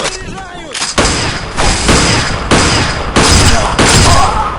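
Sniper fire in the video game Bullet Force (BTR), loud booming shots roughly every second in a steady sequence, each with a long echoing tail, with a brief voice at the start.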